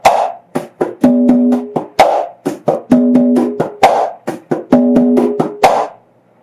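Conga drums played by hand in a heel-toe-slap pattern across two drums, a steady rhythmic sequence of soft muted heel and toe taps, sharp slaps and ringing open boom tones, close and loud with no voice.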